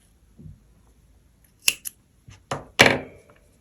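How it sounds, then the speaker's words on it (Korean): Scissors snip leftover yarn while finishing a knitted checkered beanie, a few crisp close cuts in quick succession after a soft handling rustle, alone in a quiet room. "남은 실이 너무 길면 좀 잘라주세요"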